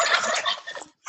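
Turkeys gobble in a short, bright burst, followed by one more brief call after a pause. The birds sound close, outdoors by a labyrinth walking path.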